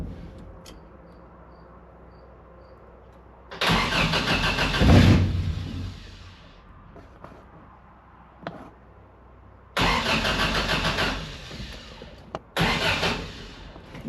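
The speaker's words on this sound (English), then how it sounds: "this thing should fire up, and it should fire up with the key" Engine-swapped 1979 Toyota Corolla cranked with the key, several loud bursts of starter cranking and engine turnover separated by quiet pauses, close up, with crickets chirping faintly in the background.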